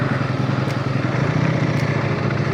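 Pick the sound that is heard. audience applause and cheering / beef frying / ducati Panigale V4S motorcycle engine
ducati Panigale V4S motorcycle engine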